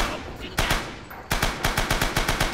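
Machine gun fire in the war shooter Rising Storm, one short burst followed by a longer rapid string of loud, close shots in a fast even rhythm.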